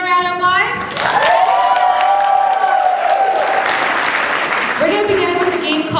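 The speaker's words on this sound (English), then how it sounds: "Can we give them a round of applause?" An open-mic night audience breaks into dense, loud applause and cheering, a broad wash of clapping that swells and holds for several seconds, with a voice talking over it at the start and again near the end.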